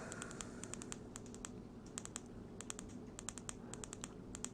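Repeated quick double clicks on the button of a Zebralight flashlight, small sharp ticks arriving in pairs and short bursts over a faint steady background hiss, close to the microphone.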